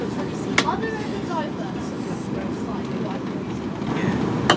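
A train pulls out of Branksome station, with a steady low rumble and rolling noise from inside the carriage, a few faint squeals and clicks, and voices talking over it.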